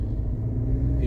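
A car engine rumbles low and close as the driver gives it gas during a driving lesson, swelling slightly toward the end of a very short stretch.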